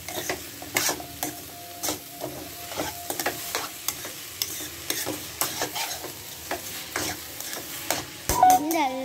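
Gajar halwa, a carrot pudding, being stirred in a pan, with steady sizzling and a rhythmic run of scraping strokes, ending in a louder clatter.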